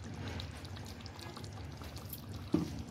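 Raw mustard oil poured over steamed fish in a pan, a quiet, short pour against low background noise, ending with a small soft clink.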